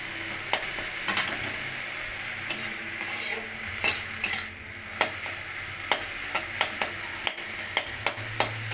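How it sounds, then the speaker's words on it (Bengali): Jute leaves (pat shak) fry in a pan with a steady soft sizzle, broken by repeated sharp clicks and scrapes of a utensil stirring against the metal at an irregular rhythm. "পাট শাকটাকে আমি ভাইজে নিই।"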